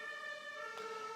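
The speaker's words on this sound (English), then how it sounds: "I don't know if you could hear it, but there was a siren going on outside" An emergency siren wails steadily outside, faint and distant, its sustained tone holding through the short stretch with no talking.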